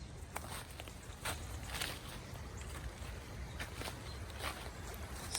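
Rain-swollen Burnt Fork Creek, silty and brown after a park rainstorm, rushes fast in a steady, dense wash of flowing water, close and continuous with no voices.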